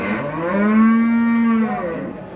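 A single cow moos loudly and close, one long drawn-out call at a cattle market where pregnant cows are being priced, with no talk over it.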